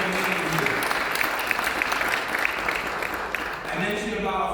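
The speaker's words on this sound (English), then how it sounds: "That deserves a big round of applause." Applause from an audience inside a New York City Council chamber during a Hispanic Heritage Month celebration, a steady, dense clatter of clapping hands that fills the room throughout and tapers slightly near the end.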